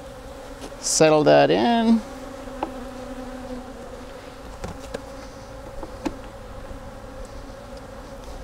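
Honey bees buzz around an open hive in a steady, soft drone, with occasional close passes and faint clicks, while a person speaks briefly near the start.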